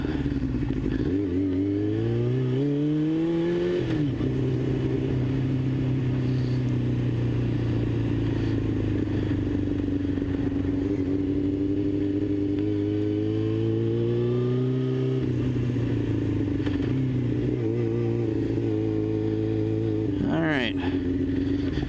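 Yamaha R6 sport motorcycle engine heard coasting down a hill, its droning exhaust rising and falling with several rev swells and a brief popping burst near the end, with someone talking over it throughout.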